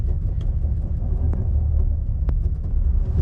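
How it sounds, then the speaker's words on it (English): A 2022 Nissan Frontier Pro-4X engine run at full throttle off-road, giving a steady, loud low rumble with engine drone and a couple of sharp knocks from the truck over rough ground. "I am currently full throttle."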